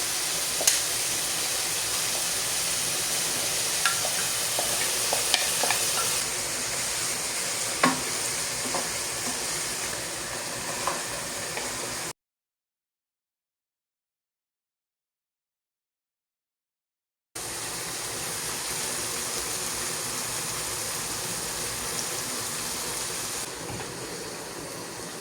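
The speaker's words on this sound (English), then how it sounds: "the pasta is cooking there" Pasta cooks in a pot on a home stove, giving a steady, close bubbling hiss with occasional faint clinks. The sound breaks off completely for several seconds midway and then resumes, and no one speaks.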